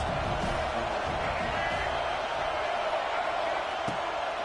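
A large football stadium crowd roars steadily on a big third down, a dense, continuous wall of cheering and noise from all around.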